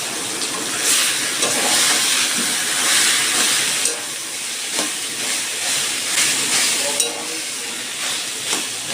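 Young jackfruit going into a hot pan with tomato and spices, giving a steady close sizzle and frying hiss with occasional stirring scrapes and taps, no talking.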